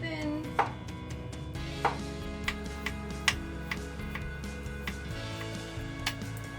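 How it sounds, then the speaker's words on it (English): A knife slicing vegetables thin on a cutting board while preparing falafel, a regular series of sharp, close chops about once a second over a steady background hum. "I'm just going to slice them thin."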